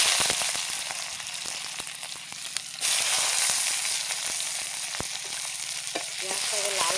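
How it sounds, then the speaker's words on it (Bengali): Sliced onion with a bay leaf frying in hot oil, a steady close sizzle with repeated scraping stirs of a spatula against the pan, no talking. "পেঁয়াজটাকে লাল লাল করে ভেজে নেব।"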